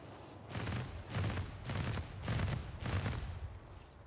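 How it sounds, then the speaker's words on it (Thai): Bursts of gunfire from the video game Lords of the Fallen come in a rhythmic series of five or six heavy volleys, moderately loud with a booming low end. "ยิงปืนเว้ย"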